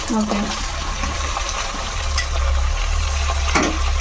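Tomatoes and brinjal frying with onions in a pan, a steady low sizzle running throughout with faint scraping stirs and occasional light clinks, a voice briefly heard near the start.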